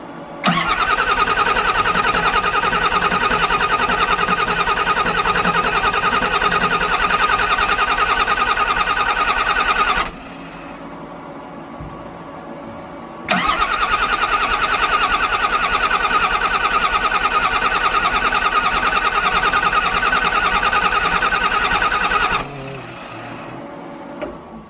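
A vehicle engine cranks steadily with a whirring starter for about ten seconds, stops, then cranks again for another ten or so, loud and close, with no start and no talk.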